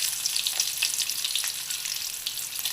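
An onion sizzles in hot oil with crackling seasoning seeds in a pan while a drumstick fry is cooked, giving a steady close frying hiss with small sharp pops and spits.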